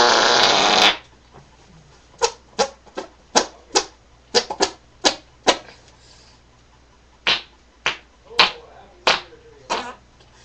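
A man imitates farting with his mouth, blowing about fifteen short, wet raspberry bursts in an uneven rhythm after a brief loud opening noise, close and clear against a quiet background.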